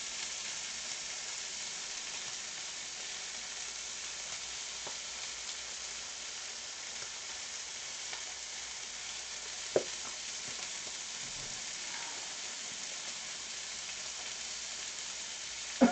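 Pork chops fry steadily in a pan, a constant broadband sizzle with soft crackles and grease spatter running unbroken for about sixteen seconds, with one sharper pop near the end.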